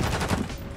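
Sniper gunfire from a fast-paced online shooter match, a dense burst of sharp shots and clatter filling most of the short moment, loud and close with no talking.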